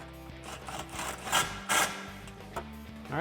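A 15 mm socket wrench ratchets as it tightens an exhaust clamp on a 2009-2014 Dodge Challenger 5.7L with a Borla cat-back exhaust. It makes close, quick rasping clicks in short bursts, with no talking.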